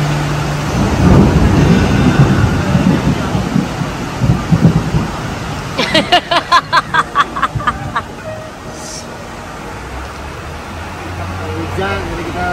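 Rain pours down on a Bangkok street while a deep roll of thunder rumbles early on and then fades, a steady wet hiss continuing underneath with voices briefly audible.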